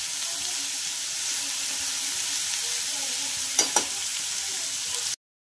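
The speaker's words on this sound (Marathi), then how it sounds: "आपले कारले असे छान पैकी फ्राय झालेले आहेत" Bitter gourd slices fry in a pan with an even, close sizzling hiss, two quick clinks of a utensil near the end before it stops abruptly.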